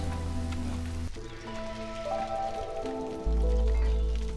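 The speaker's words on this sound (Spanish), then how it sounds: "Como que se fue la lluvia o sigue lloviendo." Rain patters steadily in the city-building game Against the Storm, a soft constant hiss mixed with tonal game music and sound effects, with no talking.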